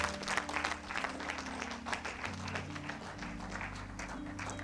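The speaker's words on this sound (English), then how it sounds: "give the Lord a hand clap" Congregation applause at a church service, steady hand clapping from many people spread across the whole stretch, with organ or keyboard chords sustained underneath.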